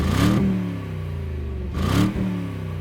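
A 2018 Mercedes S560 Cabriolet's exhaust in Sport Plus mode revs twice, each muted rise in pitch ending with a slight pop, alone and close up with no talking.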